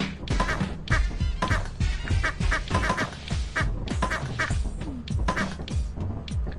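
A rubber duck item in the video game Lethal Company squeaks out a rapid, continuous string of quacks, close and busy for several seconds with no talking over it.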